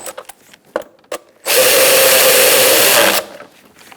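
A power driver runs the screws down on the condenser cooling fan cover of a 2002-2006 Honda CR-V, with a few light clicks and taps before one loud, steady whirring burst of under two seconds, then quiet.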